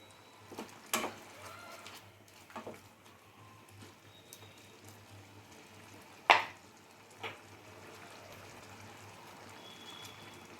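Paneer stirred in a simmering butter garlic sauce in a pan, with a faint bubbling hiss, a few soft spoon scrapes and one sharp clink against the pan partway through, all quiet and close.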